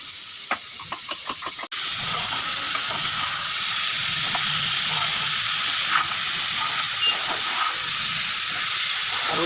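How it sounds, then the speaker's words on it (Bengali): A pressure cooker cooking rice lets off its whistle as a loud, steady rush of hissing steam. It begins after a few brief clicks and holds on to the end. "এবার ভাতের সিটি পড়লো"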